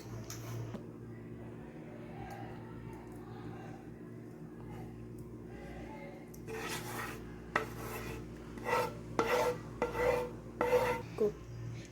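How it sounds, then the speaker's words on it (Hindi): Cooled Schezwan chutney ingredients being rubbed and crushed by hand, a low rasping, scratchy friction that grows louder and more uneven in the later seconds, with bursts of coarse rubbing over a steady background hum. "इसको थोड़ा थोड़ा इस तरह मसल लें, रब कर लें अच्छी तरह"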